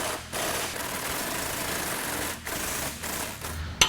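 A 21mm wrench and socket work loose the lower bolt of a Jeep Wrangler JK front track bar, giving a steady rapid mechanical chatter like a ratchet or impact tool, close and loud, with brief pauses.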